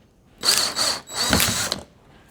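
A power screwdriver driving a screw into wood in two bursts of whirring, each about half a second to a second long with a short pause between, close and moderately loud with no talk.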